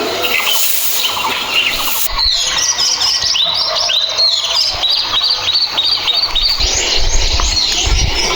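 Birds chirp busily on a hillside on a mountain morning among papaya trees with ripening fruit, a dense run of close, overlapping tweets and squeals over a faint engine hum.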